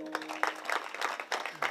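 Listeners at a Marathi kirtan break into brisk, fairly loud clapping, uneven claps building into a short burst of applause with a faint voice at the start.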